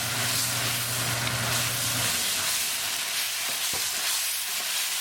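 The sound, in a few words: stirring tomato puree and onion cooking in pan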